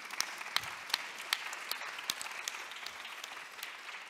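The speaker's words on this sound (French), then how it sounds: "On vous applaudit." A conference audience claps for about four seconds. The applause is moderately soft and evenly spread, made up of many scattered claps with a few sharper ones near the start, and no voices come through.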